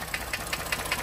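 Loud, steady rhythmic knocking from cylinder one of a Ford F-150 3.5L EcoBoost engine, heard up close as evenly spaced metallic taps about five times a second over the running engine.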